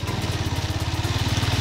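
Off-road motorcycle riding along Calle El Pajarito, a road toward Cerro El Pajarito in Concepción, Morazán, El Salvador; a steady, close, throbbing low engine note pulses evenly throughout, with no talking.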